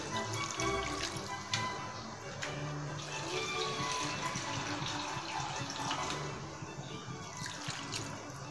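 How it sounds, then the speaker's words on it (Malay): Steady running water pours into a cooking pot of chicken kurma, a continuous splashing rush with faint dripping and clatter underneath. "Okay, masukkan air"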